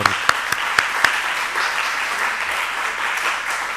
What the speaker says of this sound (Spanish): pido un aplauso muy fuerte